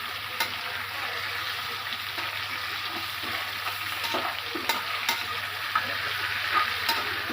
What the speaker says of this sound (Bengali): এটা আমি একটু হালকা করে ভেজে নিচ্ছি।